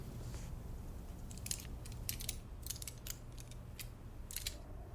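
Small metallic clicks and scrapes of lockpicks working a locked office desk drawer, coming in short irregular bursts over a low steady hum, close and quiet.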